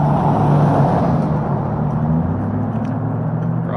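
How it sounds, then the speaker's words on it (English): A single truck approaches at night on Route 66 in McLean, Texas, its loud, steady engine rumble and tire whir filling the scene and easing slightly as it nears, with no talking. "we have a single truck coming towards us"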